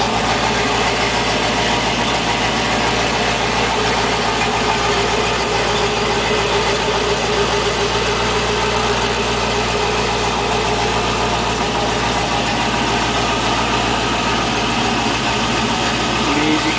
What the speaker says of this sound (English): it's got a Flowmaster exhaust on it. Sounds really mean.